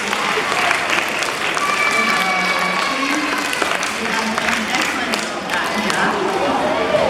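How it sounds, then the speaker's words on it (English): An audience at a seal show in a SEA LIFE aquarium applauds in a steady wash of clapping, with voices talking over it. "Let's give him a round of applause, guys."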